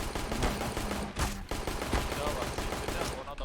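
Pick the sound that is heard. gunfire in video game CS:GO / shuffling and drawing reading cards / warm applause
gunfire in video game CS:GO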